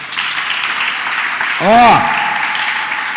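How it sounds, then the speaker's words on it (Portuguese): During a sermon, a church congregation applauds in a steady wash of clapping, interrupted midway by a brief shout or cheer. "Você pode dar um aplauso ao Senhor?"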